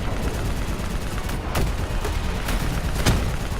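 Gunfire in the Black Ops 3 campaign, a steady dense roar of shooting with sharper reports standing out around the middle and near the end, loud and continuous throughout.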